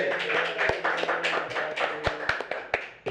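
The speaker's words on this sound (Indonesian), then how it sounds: "tepuk tangan dulu buat" Sparse, uneven hand claps ring out at an Indonesian small-business (UMKM) support gathering, a few sharp individual claps standing out from a thin, scattered round of applause close by.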